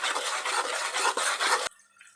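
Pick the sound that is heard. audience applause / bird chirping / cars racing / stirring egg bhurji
stirring egg bhurji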